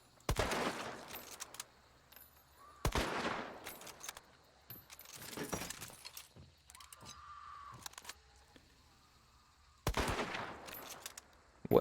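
Mosin rifle shots in the game Hunt, several sharp cracks spaced irregularly among quieter mechanical clicks and rattles, fairly faint overall, with no talking.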